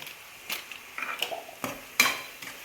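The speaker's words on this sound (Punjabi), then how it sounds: "ਇਹਨਾਂ ਨੂੰ ਹੁਣ ਆਪਾਂ ਚੰਗੀ ਤਰ੍ਹਾਂ ਮਿਕਸ ਕਰ ਦੇਣੇ ਆ" Maggi noodles being stirred with Maggi masala in a pan, a spoon scraping and clinking against the metal in a few irregular strokes with sharper knocks, close by, with no talk.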